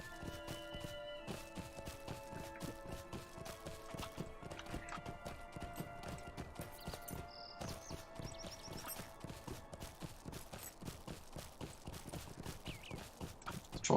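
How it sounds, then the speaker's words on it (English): Horse hooves clip-clop steadily as a rider travels along a road in the video game Lord of the Rings Online, a quiet, even gait under soft sustained background music. "I'm going to ride to Barracan's camp and take the horse there to Thornhead."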